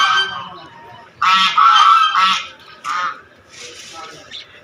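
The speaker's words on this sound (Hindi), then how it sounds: "देखो गाइज बतख कितने अच्छे हैं" Ducks near a pond honk and quack in loud nasal bursts, several calls close by in quick succession, with a voice talking faintly around them.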